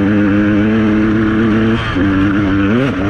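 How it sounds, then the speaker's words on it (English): A motorcycle engine drones loudly and close up while being ridden, its steady pitch dipping and rising again at two gear shifts. "we're going to cut now back onto ripping around on the bike"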